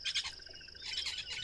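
An outdoor bird gives a quick string of bright, close chirps and tweets over a quiet nature background.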